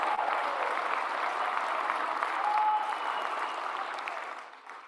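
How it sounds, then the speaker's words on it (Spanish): Sustained applause from a crowd cheering legislators at a political gathering, steady dense clapping throughout that tapers off near the end, no voices on top. "Un gran aplauso a todos y a todas."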